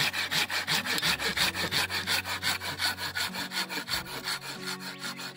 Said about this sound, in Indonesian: Oke, ini salah satunya gergaji. Gergaji kita potong di sini.